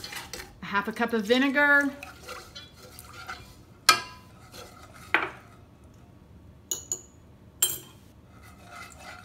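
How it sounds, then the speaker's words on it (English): Metal utensil stirring cooked potato salad dressing ingredients, including vinegar and black pepper, in a pot: a few separate clinks and scrapes spaced over several seconds, following a short stretch of speech. "And I'm going to stir that around."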